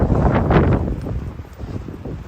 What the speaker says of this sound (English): If it's windy like this tomorrow morning, we will probably be leaving.